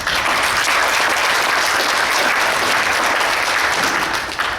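Sustained applause from a crowd, steady and dense throughout, with no voices rising above the clapping.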